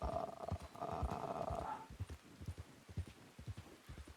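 Horse hooves clip-clopping in the RedM western game, a steady trotting rhythm of close hoof falls, faint and low in level, with a short whinny-like tone over the opening moments.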